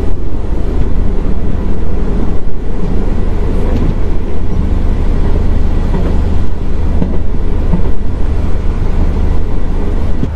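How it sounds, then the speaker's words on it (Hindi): An India–Nepal railway train running at around 100 km/h near Inarwa station, heard from on board as a loud, continuous low rumble and rattle with wind buffeting, unbroken and without voices. "फिलहाल अभी 100 की रफ्तार में इस रेल मार्ग पर मैं यात्रा कर रहा हूँ।"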